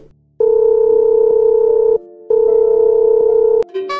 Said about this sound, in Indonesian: Iya, kakek coba telepon dulu ya cu.